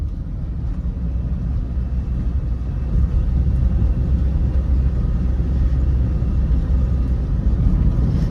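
A Nissan X-Trail T30 engine runs steadily at about 2000 RPM, a constant low rumble that rises slightly partway through and then holds an even, smooth level without speech.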